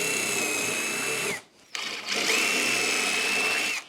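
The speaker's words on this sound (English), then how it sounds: "we gotta screw through these holes" A power drill drives screws through holes into scrap wood, whining steadily at high speed, pausing briefly, then spinning up again for a second long run.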